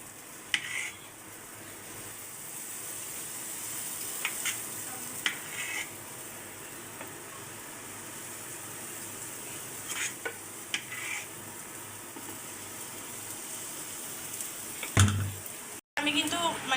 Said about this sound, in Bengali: আমি কিন্তু তাড়াতাড়ি ভেজে নেওয়ার জন্য একসাথে সবগুলো পিঠা দিয়ে দিচ্ছি আর বারবার নামিয়ে নিচ্ছি।